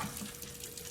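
Cold water runs from a tap over boiled eggs in a kitchen sink, a steady close rush of flowing water throughout the brief moment with no talking.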